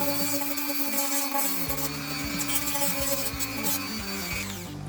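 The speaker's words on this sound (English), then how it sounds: "Dremel is quite handy here." A Dremel rotary tool whines continuously at high speed while cutting into a metal bottle cap, close and loud with a slight pitch waver.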